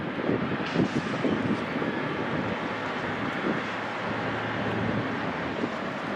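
An Air New Zealand Flight 6 airliner at LAX, heard in a crosswind, makes a loud, continuous broadband jet roar with a low rumble, steady throughout with some wind buffeting on the microphone.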